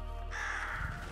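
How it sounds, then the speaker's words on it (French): Crows caw in the video game Röki, a single harsh, drawn-out call rising over a steady low ambient game background. "Et en plus on a encore des corbeaux de l'autre côté"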